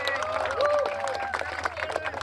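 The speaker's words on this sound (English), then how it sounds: "please give a warm round of applause for Mayor Michelle Wu" An outdoor crowd at a basketball court unveiling applauds Mayor Michelle Wu, a steady patter of many hands with cheers and voices calling over it, moderately loud throughout.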